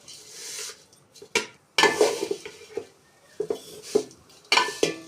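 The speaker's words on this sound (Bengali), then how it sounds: "দিয়ে দেবো লাল সেমাইগুলো। হালকা করে ভেজে নিব।" Red vermicelli (semai) lightly fried and stirred in a pan, with intermittent scraping and clattering of a spoon against the metal in uneven bursts and quiet gaps between.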